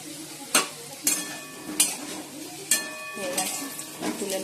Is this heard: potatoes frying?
yes